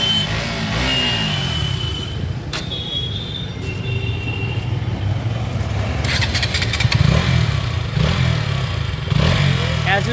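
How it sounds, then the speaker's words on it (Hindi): KTM Duke 200 motorcycle engine idling and blipping nearby with its characteristic thumping single-cylinder beat, a steady low chug rising briefly with revs toward the end. "एज यूजुअल KTM वही ठक ठक वाला साउंड ही आपको प्रोड्यूस करती है।"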